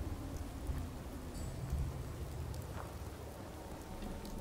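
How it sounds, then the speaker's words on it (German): Gentle rain falls in Fallout 4, a steady, soft hiss with faint low rumbles underneath, heard alone without talk. "So, sanfter Regen, der hier schön das Blut von den Straßen wischt."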